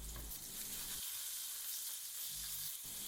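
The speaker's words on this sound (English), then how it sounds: "I'm frying the kofta on high heat to retain the juice inside the meat." Kofta frying on high heat in oil or ghee in a pan, a steady close hiss of sizzling with a few soft stirring or turning sounds and no talk.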